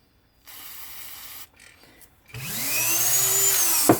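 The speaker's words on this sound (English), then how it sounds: "Just spray a little bit of brake cleaner on there." A short hiss of brake cleaner spray on a Datsun 240Z/280Z switch, then a pause, then a louder whirring spin with a rising mechanical whine ending in a brief clunk.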